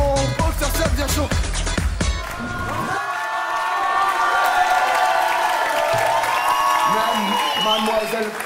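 Loud crowd cheering and applause fill the space, with whoops and shouts over music that fades from a strong beat into sustained tones.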